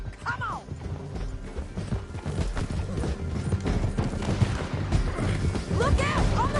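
Horse hooves clip-clop in a video game, an uneven run of thuds under shouting voices and a neighing horse, with crashing sounds toward the end.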